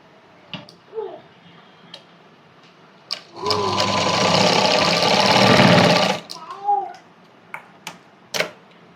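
Sewing machine stitching a cross cut blouse, one loud sustained run of rapid whirring stitches lasting about three seconds, framed by a voice speaking before and after.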